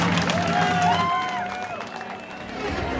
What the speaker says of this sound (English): Nate Enright takes in the applause of the TLT Theatre